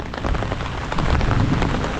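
Heavy Konkan monsoon rain pours steadily and loudly, a dense roaring hiss close by, with low rumbles of thunder underneath and no voices.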